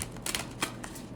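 Tarot cards are shuffled in a quick riffle of crisp, papery flutters and clicks. The sound is close and quiet, with no talking.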